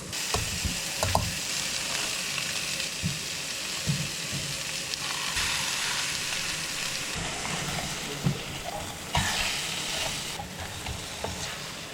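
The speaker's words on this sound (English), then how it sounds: "Super easy to flip the burgers this way." Burgers sizzle and fry steadily on a camp pan inside an old cabin during a storm, with scraping spatula flips and clinks breaking through the constant crackle at close range.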